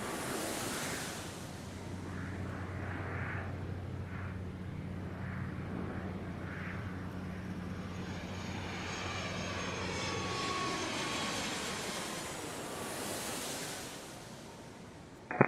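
A jet airliner takes off from a runway at Atlanta airport, its engine roar swelling and sweeping in a broad, steady rush at moderate distance, then slowly fading away.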